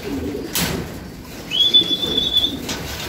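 Racing pigeons coo softly close by amid rustling and a brief flutter of wings, with a thin whistle-like tone partway through.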